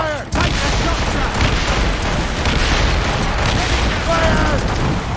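Naval cannons boom during a ship battle in Assassin's Creed Rogue, a loud, sustained roar of blasts and rumbling, with crew voices shouting over the fire.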